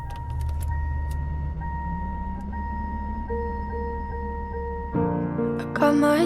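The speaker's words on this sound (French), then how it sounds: "il y a un bruit de voiture qui se fond un peu avec les notes du piano" A recorded car opens a song, engine rumble and faint jingling under steady held tones that blend with piano notes, before the music swells in the final seconds.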